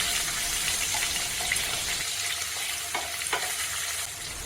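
Sliced onion fries in hot oil with mustard seeds, giving a loud, steady sizzle close at hand, with occasional soft stirring scrapes and faint pops.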